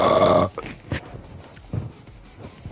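A person burping during a Black Ops 6 gaming session: a single loud, gurgly belch at the start, then quieter low rumbles and faint background sounds.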